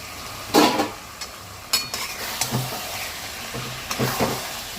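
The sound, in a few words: stir-frying chicken in spice masala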